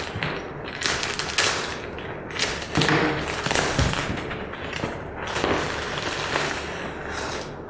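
An envelope of bicycle spokes and nipples is torn and handled up close, with continuous crinkling paper and rustling broken by a few sharper thumps and taps.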